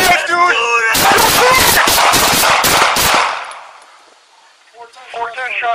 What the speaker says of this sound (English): 410 shots fired.